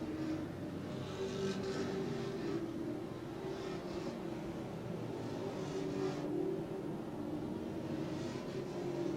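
Race cars lap Twin State Speedway in Claremont, New Hampshire, their engines droning steadily at middle distance and swelling now and then as the pack passes, with no pause in the roar.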